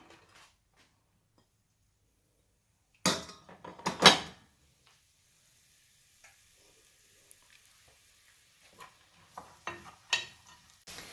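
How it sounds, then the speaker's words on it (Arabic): Onion and carrot hit a hot pan and burst into a loud, close sizzle. Stirring and scraping noises follow, then a fainter, irregular crackle of frying. "غنضيف عليها البصيله وخيزو يتشحروا دقه واحده"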